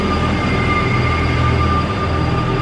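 A long double-decker passenger train rolls past close by, a steady, continuous rumble of wheels and carriages with a constant high whine, running at even loudness throughout with no voices.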